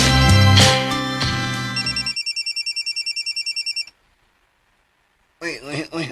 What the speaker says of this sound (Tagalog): May bagting mga akong mahalong cellphone, oy.